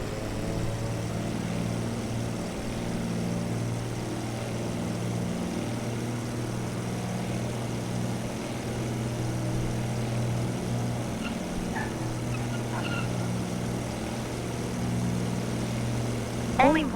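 Steady propeller aircraft engine at full throttle in Microsoft Flight Simulator 2024, a constant loud drone with strong low harmonic bands running unbroken throughout, with a brief rising whine near the end.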